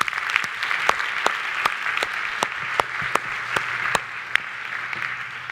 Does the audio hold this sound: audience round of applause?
yes